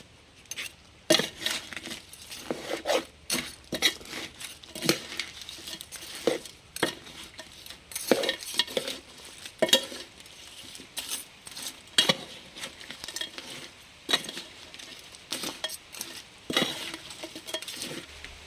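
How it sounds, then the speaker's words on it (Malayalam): A spoon stirs crab thoran in a pan with quick, repeated scraping strikes at an irregular rhythm, set against a faint background sizzle, close up and moderately quiet with no talking. "നമുക്കിതേ ഒന്ന് ഇളക്കി യോജിപ്പിക്കുക"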